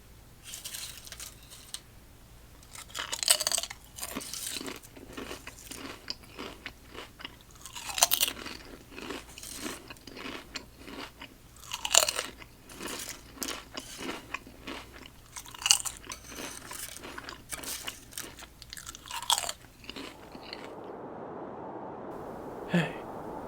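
Lay's Masala potato chips being crunched and chewed close to the microphone, with sharp crisp bites followed by steady, quiet mastication in an intimate, soft ASMR setting.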